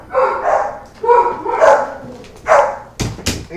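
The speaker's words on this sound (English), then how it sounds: "the dogs are going crazy in the background, so I apologize for them" Several dogs bark excitedly in a room during a gaming stream, with repeated yips and barks in irregular bursts, fairly loud and close, followed by two sharp thumps near the end.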